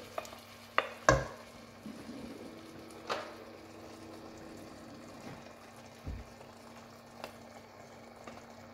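A spoon stirs a pot of Moroccan harira soup with puréed tomato, giving scattered soft scrapes and clinks against a low simmering hum, fairly quiet throughout.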